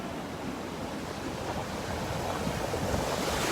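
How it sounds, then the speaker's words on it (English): Ocean surf rolling and breaking at Pawleys Island beach on a summer morning, a steady broadband wash of crashing waves with some wind noise, building slightly louder toward the end, no voices. "The surfers are trying to get out past these breakers."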